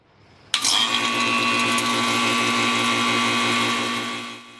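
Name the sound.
vacuum pump running on car AC system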